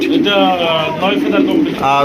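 A racing pigeon coos close by in soft, repeated rolling calls, one after another without pause.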